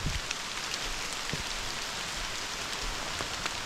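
Steady rain falls on a creek at Waitui Falls in New South Wales, a continuous broadband hiss with scattered sharper drops standing out, close and even throughout.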